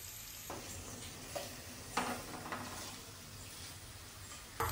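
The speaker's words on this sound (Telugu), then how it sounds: "ఉప్పు వేసుకుంటే ఉల్లిగడ్డ తొందరగా వేగుతుంది" Onions frying in a pan with turmeric and salt, a steady close sizzle broken by several sharp stirring scrapes and clinks, with no voices.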